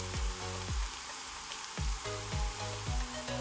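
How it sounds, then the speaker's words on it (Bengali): Onions sizzle in a pan of hot oil over a full flame, cooking for Bangladeshi-style chickpea dal bhuna. A steady, close hiss is broken by several soft low thumps of stirring. "এবার পেঁয়াজগুলোকে ততক্ষণ ভাজবো যতক্ষণ না পেঁয়াজগুলোর কালার চেঞ্জ হয়ে আসে"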